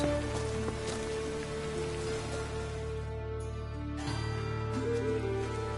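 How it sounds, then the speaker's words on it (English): Rain in The Witcher 3 makes a steady, soft hiss of drops hitting the ground, continuous and fairly faint throughout, with a low droning game ambience underneath. "Looks like rain."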